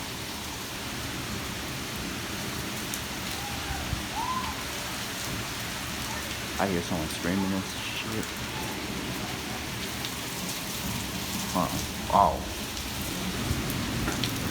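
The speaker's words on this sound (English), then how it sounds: "but it's really raining." Heavy rain pours steadily through a severe warned thunderstorm with 40 mph wind and penny-size hail, a dense continuous wash under occasional talk and brief louder gusts or bangs.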